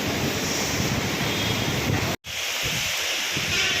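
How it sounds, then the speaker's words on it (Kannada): Heavy rain driven by wind pours down outdoors as a dense, steady roar with a brief sudden dropout partway through, then the same loud wash resumes. "ಈಗ ನೋಡಿದ್ರೆ ಎಷ್ಟು ಜೋರಾಗಿ ಬರ್ತಾಯಿದೆ ಮಳೆ ಅಂದರೆ, ನಿಂತು ಬರ್ತಾಯಿದೆ"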